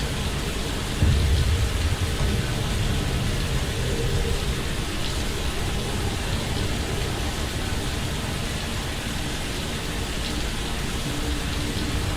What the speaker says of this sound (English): since this is London, it's happening in the rain